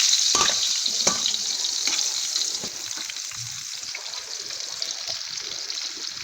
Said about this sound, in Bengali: চাকগুলোকে ভেজে নিচ্ছি।